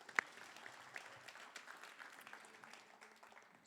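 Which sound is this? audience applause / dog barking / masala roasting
audience applause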